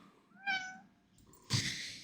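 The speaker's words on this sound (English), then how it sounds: "my cat's yelling at me" A cat meows loudly and close by in two separate calls. The first is a clear rising meow and the second is a rougher, noisier cry, with quiet between them and no talk.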